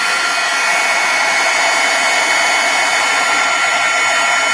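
A heat tool runs at a steady, loud whoosh while it melts embossing powder on a holiday slimline card, the airflow continuous throughout with no talking.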